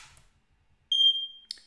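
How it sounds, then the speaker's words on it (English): A First Alert smoke alarm gives a single sharp electronic confirmation beep after a battery change, loud and close, holding steady for about half a second before a short click-like blip. "There's the beep. Indicates the smoke alarm is ready to go."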